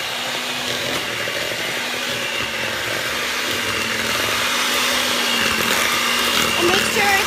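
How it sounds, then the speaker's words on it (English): Electric hand mixer whirring on low speed through chocolate chip cookie dough, a steady continuous motor drone with faint scraping, while someone talks over it. "you have to mix it with the mixer on the low temperature"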